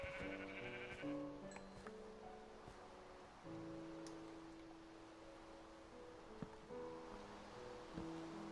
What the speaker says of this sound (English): Sorry about this mess of sheep.